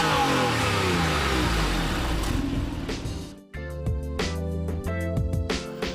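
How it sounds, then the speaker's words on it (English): A Porsche 911 4S engine roars loud and close, revving hard with a brief dip near the middle before climbing again in sharp, repeated bursts. "The horse roar of the Porsche engine."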